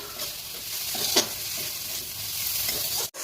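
Chopped green chilli stirred into frying tomato and onion gives a constant hiss of sizzling oil, with a brief scrape of the spoon partway through and a sharp click near the end.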